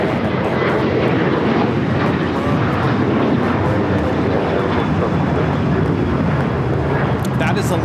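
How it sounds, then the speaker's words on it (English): An Alaska Airlines Boeing 737-900ER jet takes off at a busy airport, a loud, continuous broadband engine roar filling the whole stretch without letup. Faint radio chatter may sit underneath. "That is Alaska Airlines 1315 taking off to Portland on the 737-900 ER."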